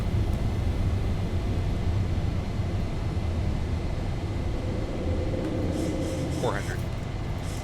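A Zibo 737 jet climbing out of KLAX after takeoff in a flight simulator, its engines a loud, continuous broadband roar that stays even throughout, with a voice speaking over it.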